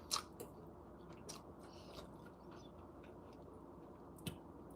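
Someone chews ramen close to the mic, with a few soft bites and wet, quiet chewing sounds spread through an otherwise hushed room.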